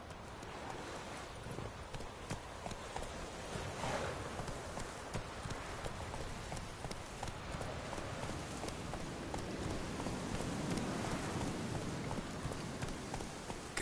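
Horse hooves from Roach in The Witcher 3 pound in a steady, fast clip-clop gallop, with a continuous noisy bed of wind and movement under the rhythmic beats throughout.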